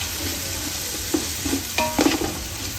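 Soya pulao masala stirred in a pot, a steady hiss of frying under a few short spoon scrapes and clinks near the end, close and moderately loud.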